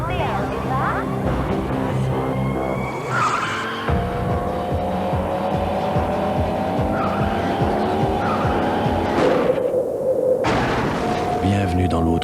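A race car from a Sega Saturn advert revs and launches, tires squealing in repeated skids over a constant loud engine drone, with a brief burst and a voice announcing in French near the start.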